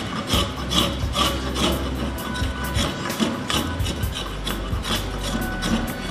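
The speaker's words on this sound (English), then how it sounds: "So I'm gonna take a spoke shave." A spoke shave scrapes a wooden spoon held in a vise, producing repeated close rasping strokes in a steady back-and-forth rhythm with no talking.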